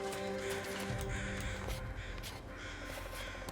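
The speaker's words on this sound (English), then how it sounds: "There's the crows." Crows caw repeatedly in a snowy wilderness in The Long Dark, harsh calls rising over a steady ambient drone, moderately distant and faint with no talk.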